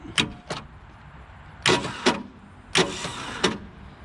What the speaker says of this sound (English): starter's making noises, but our engine's not turning over